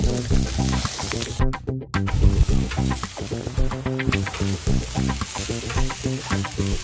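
Meat grills on a tire cover of a Conqueror UEV-490 camper trailer with a constant close sizzle and crackle, mixed with a patterned tonal background throughout.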